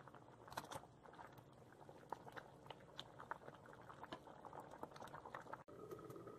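Soft bubbling and popping of thick lentils simmering in a pot for dal makhani, irregular little bursts over a low steady hiss, close and quiet.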